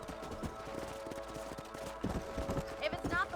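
Horse hooves clip-clop at a steady walking pace while riding across a ranch in the video game Red Dead Redemption, with distinct rhythmic thuds, a whinny near the end and voices talking over them.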